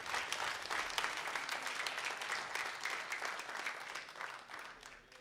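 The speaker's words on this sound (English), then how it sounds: "that deserves applaud" Audience at a youth rock band semi-final applauding the sponsors, steady crowd clapping that holds for several seconds and tapers slightly at the end.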